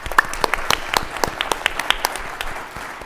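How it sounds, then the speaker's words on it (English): A panel-discussion audience claps after the session ends, a steady patter of individual hand claps that carries on for a few seconds at moderate loudness with no talking. "Let's give them another round of applause."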